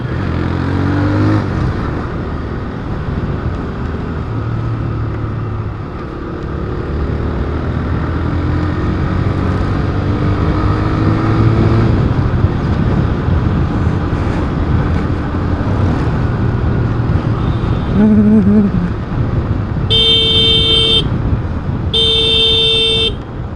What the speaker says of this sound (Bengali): মানে বাইকের সাথে বাস পাঙ্গা দিচ্ছে।